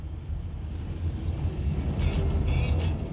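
A personal car drives along, heard from inside as a steady low road and engine rumble with faint higher rattles and passing noises, no one speaking.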